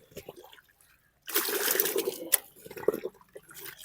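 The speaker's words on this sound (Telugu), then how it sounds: "వాటర్లో వేసి బాగా మిక్స్ చేయాల్సి ఉంటుంది" Poultry medicine powder being stirred into water, with sloshing and splashing that starts after a second of quiet and continues, with faint talking early on.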